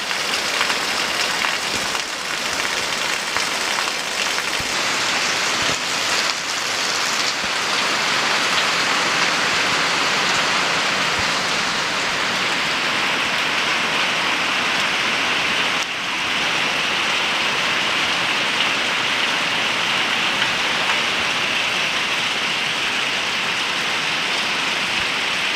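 Steady rain pours onto a garage roof and the ground outside, a constant dense hiss of drops running unbroken and fairly loud from start to finish, with no voices.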